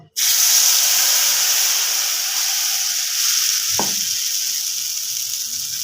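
Smooth spice paste hits a hot wok with a sudden loud sizzle that settles into a steady hiss, with a brief clunk partway through.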